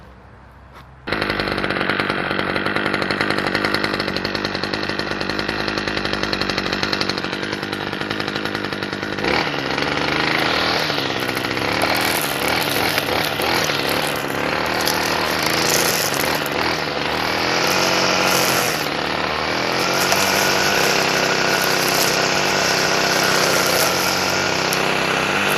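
Stihl landscaping power tool, a trimmer used for yard trimming, runs loud and close with a steady high-revving two-stroke engine drone that continues throughout after a brief quiet start.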